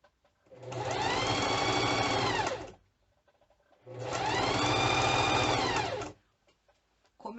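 A sewing machine stitches bias binding onto plastic for a medicine wallet, running in two long steady bursts of about two seconds each, separated by a brief quiet pause, close and loud with no talking.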